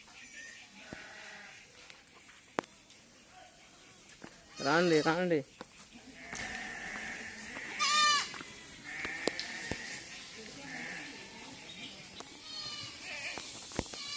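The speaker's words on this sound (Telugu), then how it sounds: "ఇక గొర్రెలు వస్తున్నాయి." A flock of sheep bleats outdoors near a spring-fed water spot, with a few loud, wavering bleats rising over the ambient noise while people talk nearby.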